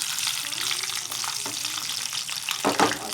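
Ingredients for mung and masoor dal fry in hot oil with a dense, even sizzle close by, broken by a few stirring scrapes and a louder burst near the end.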